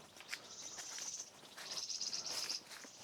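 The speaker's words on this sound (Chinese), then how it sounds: "到处都是这样子的鸟儿 嬉戏，这样子的叫声。" High, thin insect trilling runs in long stretches outdoors in the mountain countryside of Hunan, China, with scattered faint bird chirps around it.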